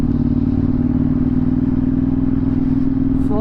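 A KTM 790 Duke fitted with an SC Project S1 exhaust runs on a dyno in track mode. Its engine drones loud and steady and close, with a quick upshift near the end.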